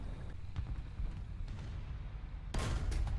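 A Sherman Firefly tank cannon fires in the War Thunder video game: a single sudden heavy blast breaks over a low rumbling engine drone late in the moment, loud and close.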